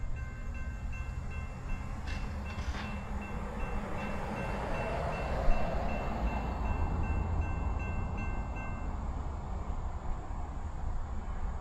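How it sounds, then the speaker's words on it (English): A CSX train rounds a curve in Ringgold, Georgia, a steady low rumble of rolling cars with a faint horn early on, heard from trackside with no talking. "We will have a train coming around the curve here shortly."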